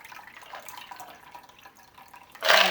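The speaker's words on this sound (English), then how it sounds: "Ice cold water." Ice cold water trickles and drips into a bowl for tempura batter, faint at first, then ends in a brief, louder splashing pour.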